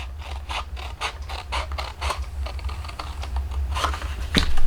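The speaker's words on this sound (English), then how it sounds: "make sure that folds good, and then cut where you just folded, cut that up" Scissors snipping through folded paper while making a pop-up treat box, a series of close, crisp cuts in an uneven rhythm, ending with a slightly louder snip.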